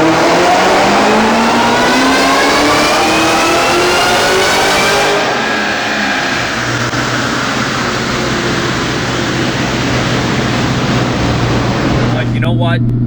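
A supercharged SVT Cobra with a ported blower, rated around 800 horsepower, screams up through the gears on a dyno, a loud sustained rising engine roar with whine, then settling into a steady high drone before cutting off.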